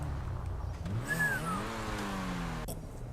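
A car engine in GTA V revs up and then eases off as the driver pulls in to park among rows of parked cars, with a rising, falling whine over a steady low rumble, loud and close.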